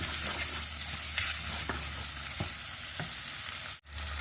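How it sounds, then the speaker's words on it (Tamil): Garlic and ginger sauté steadily in a hot pan, a continuous close sizzle with a few soft stirring scrapes and a brief dip in the hiss near the end; no voices. "ஒரு 4 பூண்டு போட்டுக்கோங்க. கொஞ்சமாக இது இஞ்சி போட்டுக்கோங்க. நல்லா வதங்கட்டும்."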